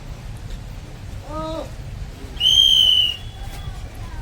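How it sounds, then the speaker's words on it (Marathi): A shrill, steady whistle rings out for under a second, preceded by a shorter, lower whistled note, over a faint background hum. "शिट्टी"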